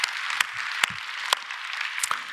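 A church congregation at a Sunday worship service applauding, a dense wash of many hands clapping with a few sharper claps standing out, steady and fairly close.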